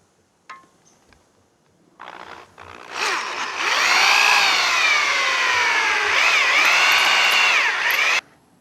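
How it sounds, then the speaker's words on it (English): A power drill driving a bit through a 6x6 wooden post outdoors: a few short clicks and revs, then a loud, steady whining grind with pitch dips as the bit bores through, stopping abruptly at the end. "He's going to take the drill bit and he's going to go all the way through."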